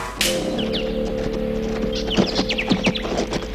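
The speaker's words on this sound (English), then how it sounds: "Would you like to share my horse, Mr. Uncas?" Rhythmic hoofbeats clop along at a walking pace over a low hum, with a horse snorting and faint rustling.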